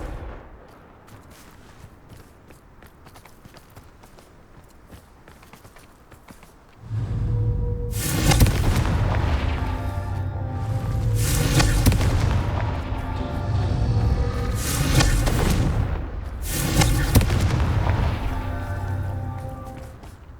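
Confringo blasting spell explosions in the video game Hogwarts Legacy: a quiet stretch gives way to a run of loud, booming blasts that follow one another closely and fill the rest of the scene.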